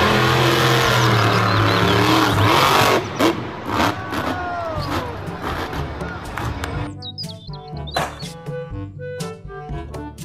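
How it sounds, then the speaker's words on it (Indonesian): Monster truck engine revs loudly for the first few seconds, then drops to a lower, uneven rumble with sharp clicks and clatter, while high chirping tones and bird-like tweets appear toward the end. "Mobil truk monster."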